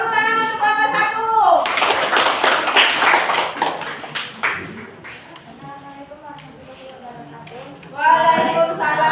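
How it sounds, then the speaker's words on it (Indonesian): Students in a school counseling class clap for the first group about to present, a short lively burst of hand claps between stretches of a nearby voice speaking before and after. "Tepuk tangan untuk kelompok 1"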